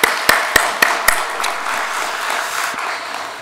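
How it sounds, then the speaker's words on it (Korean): A church congregation claps during a Sunday worship service in Ulsan, opening with several sharp, evenly spaced loud claps, then settling into softer, scattered clapping that fades. "하나님께 영광의 박수 돌리겠습니다"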